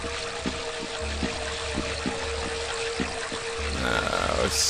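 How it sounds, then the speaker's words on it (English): Sewage runoff water pouring in the video game Blueshift, a continuous broad rushing wash with a faint steady tone and regular low thumps beneath, growing slightly louder toward the end. "Sewage runoff."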